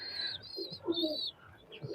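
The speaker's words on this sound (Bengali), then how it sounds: "এখানে আমার সেই বিখ্যাত চট জেনারেশনের কবুতর আছে" Pakistani highflyer pigeons coo softly inside a loft in Khulna, several low, rolling coos from nearby birds overlapping with light chirps and rustling.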